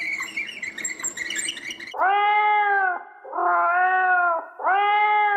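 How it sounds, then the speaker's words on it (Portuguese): A cat meows three times in long, drawn-out wailing calls, close and clear, after a brief burst of other busy noise at the start. "Sim, um gato."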